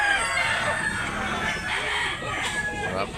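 A rooster crows at a busy chicken market in Tabunok, Talisay, Cebu, its drawn-out calls rising over a dense, noisy crowd with other fowl clucking nearby.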